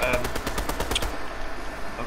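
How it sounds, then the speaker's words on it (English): Video game gunfire rattles as a rapid burst of about a dozen evenly spaced shots, then cuts off, leaving quieter background noise. "Where's that shooting coming from?"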